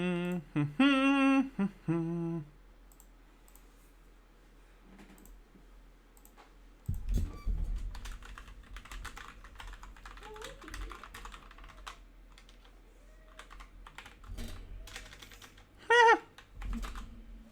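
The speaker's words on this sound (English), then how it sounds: "My typing is all sorts of fuck today." Typing on a computer keyboard, quiet scattered keystrokes and clicks in irregular bursts, close but soft, with a short tonal sound at the start and a few louder clacks near the end.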